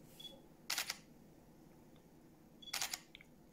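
A Pentax camera shutter in single frame mode fires twice, two crisp separate clicks about two seconds apart in a quiet room, each a short bright mechanical snap.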